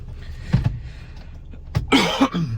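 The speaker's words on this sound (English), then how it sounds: "I know I keep clearing it and coughing and stuff" A person clears their throat and coughs nearby, a few short bursts over a faint steady background hum.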